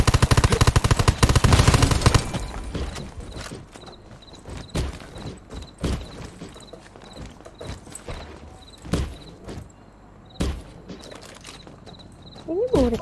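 Machine gun fire rattles in the Undawn video game, a dense loud burst at first, then scattered sharp single shots and short volleys spaced apart.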